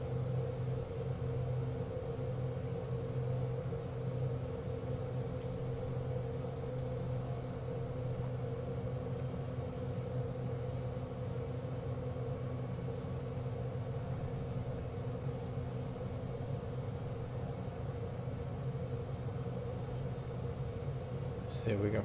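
Aircraft engine in Microsoft Flight Simulator 2024, throttled up slightly on a landing approach with gear and flaps extended, giving a steady, continuous drone that holds at one level throughout, with a voice talking over it.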